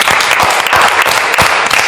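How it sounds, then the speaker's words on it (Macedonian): A studio audience in a televised Macedonian cooking reality show breaks into steady, dense applause, a continuous wash of many hands clapping close and loud for the full stretch with no talk over it. "еден голем аплауз за Мован"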